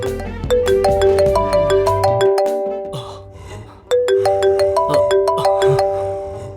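A phone ringtone for an incoming call plays a loud repeating melodic chime pattern, cycling twice with a brief lull between rounds, with no talking over it.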